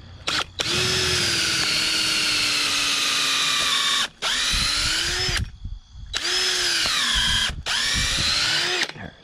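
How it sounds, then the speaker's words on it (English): A hammer drill whines loudly in several long bursts with brief pauses between, its pitch rising and dipping slightly as it bites in, while installing a farm gate. "It's a hammer drill."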